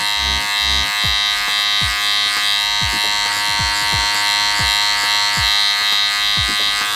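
Hair clippers buzz steadily and up close while cutting a drop fade in a self haircut, with the lever being adjusted; a constant electric hum runs throughout with no talk.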